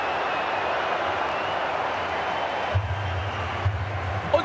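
A stadium crowd roars and cheers after a goal at a creator football event, a dense sustained wash of noise with a louder chanting swell toward the end and some voices mixed in.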